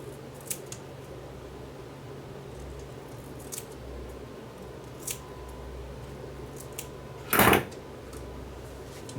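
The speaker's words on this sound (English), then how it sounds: "We will trim it down a bit." Scissors trim a spliced VHS tape during a repair, with a single sharp snip close by and a few faint clicks around it over a low steady background hum.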